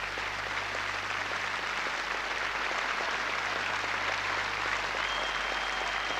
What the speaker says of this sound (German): Größter Applaus für die Italiener an diesem Abend.